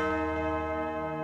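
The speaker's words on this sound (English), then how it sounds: "We got this really cool bell sound." A single bell one-shot sample from an Ableton Live drum rack rings out with a bright, sustained metallic tone and rich steady overtones, loud and close, holding without decay for over a second.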